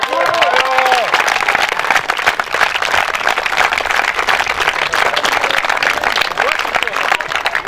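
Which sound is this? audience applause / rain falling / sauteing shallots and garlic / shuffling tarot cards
audience applause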